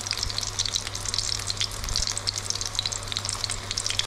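Salmon steak sizzles steadily in a hot pan, a dense continuous crackle with scattered sharper pops, close and fairly loud, with no talking.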